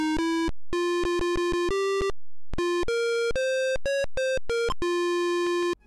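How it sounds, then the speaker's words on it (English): Square-wave beeps from a PC speaker play a DOS game tune under DOSBox, sounding loud, buzzy and electronic. Short staccato notes come in quick rhythmic bursts, with brief gaps between the phrases. "relying instead on the beep of a PC speaker, which ranged from tolerable to horrific, depending on the sound design"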